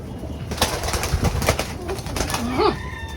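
Pet pigeons or doves kept by a hobbyist flutter their wings close by, with soft flapping bursts and a brief low coo near the end over light background noise.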